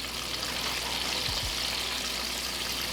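Crappie fillets fry in a pan with a steady, even sizzle of hot oil that holds at the same level throughout, with a couple of faint low thumps midway.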